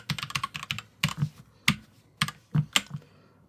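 Keys on a Cooler Master CK721 65% gaming keyboard are pressed in irregular clusters of sharp clicks and clacks, close and clear with short pauses between bursts and no talking.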